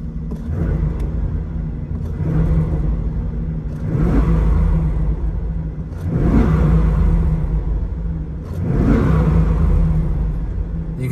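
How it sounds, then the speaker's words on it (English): A cold car engine is revved three times in a row, each a rising swell of roar that then falls back to a steady idle hum, loud and close, with no talking. "Sorry to have revved her"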